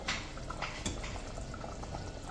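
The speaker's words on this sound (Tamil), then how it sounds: "நல்லா குழம்பு கொதித்து நல்லா வந்து ஸ்மெல்லு வர ஆரம்பிச்சிருச்சு" A pot of bone curry (kuzhambu) with ground coconut simmers and boils, giving a steady close bubbling and hissing with scattered small pops and no talking.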